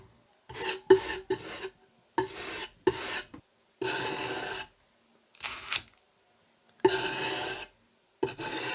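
Repeated rasping strokes of sandpaper on the wooden cabinet of a Philips A5X83A tube tuner, in short bursts with pauses between, close and fairly quiet.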